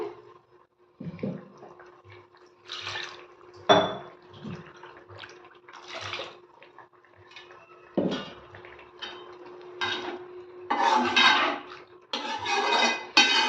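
Water pours and splashes from the grinding jar as it is rinsed of ground masala into a bitter gourd tamarind gravy, with clinks of metal vessels and scattered bursts of rinsing, near and fairly loud, no talk.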